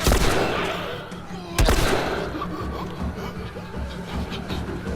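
Two loud gunshots in The Last of Us ring out close together, each trailing off into a reverberant tail over faint background noise.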